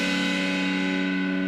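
A distorted electric guitar chord, voiced with the fourth finger added, rings loud and sustained with reverb, one steady held chord with no talking.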